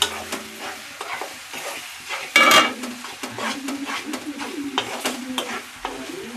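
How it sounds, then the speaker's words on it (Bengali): Fish-head moong dal being stirred and fried in a pan on a high gas flame, a steady sizzle with scraping stir strokes and one louder clatter, no talk. "এবার নাড়াচাড়া করবো গ্যাসটা জোর দিয়ে নাড়াচাড়া করবো"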